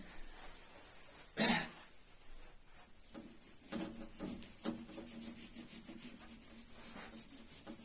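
Board eraser rubbing out writing on a classroom board during a chemistry lesson: one loud, brief scrubbing burst near the start, followed by several softer rubbing and knocking strokes, with no talking.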